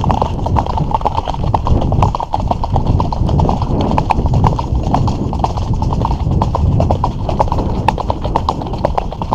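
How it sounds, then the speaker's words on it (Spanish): A mare's hooves clip-clop steadily and loudly during a trail ride, a continuous close rhythm that runs under wind and riding noise. "Como veis, pues la yegua está tranquila."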